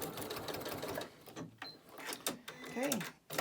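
Sewing machine stitching across fabric scraps to make a lanyard, close rapid mechanical whirring in short bursts with brief pauses and a few clicks between runs.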